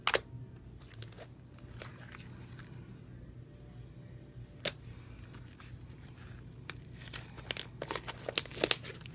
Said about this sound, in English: this is what it looks like and sounds like with rubber bands in it